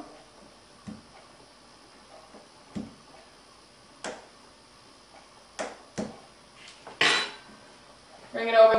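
Hot dogs being poked with a utensil on a kitchen counter: scattered sharp clicks and taps of metal against a plate, irregular and close, with quiet pauses between and a faint rustle near the end.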